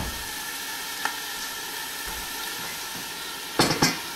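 Grilled chicken sizzles in a covered pan, a steady soft hiss of frying running throughout, broken near the end by a couple of sharp clanks of the lid or pan.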